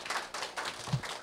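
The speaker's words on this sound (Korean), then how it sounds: "우리가 이 원고를 써주신 선생님을 향해서 큰 박수를 한번 보내주시죠" Audience clapping at a university literary concert, a brief, quiet patter of hands from a modest crowd, somewhat distant and soft.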